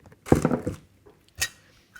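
A lid goes onto a glass jar filled with berry and greens smoothie, a cluster of clinks and scraping taps followed by a sharper single clink, close and alone.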